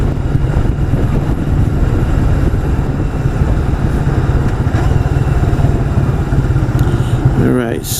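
A 1985 Yamaha Virago motorcycle riding on an open road toward Montauk, its engine a steady low drone mixed with heavy wind rush throughout, with a rider's voice faintly under the noise.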